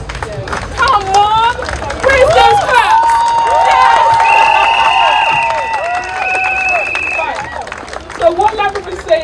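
At a London street rally against low traffic neighbourhood road closures, a crowd cheers and shouts loudly, with whoops and raised voices rising over scattered clapping and general hubbub.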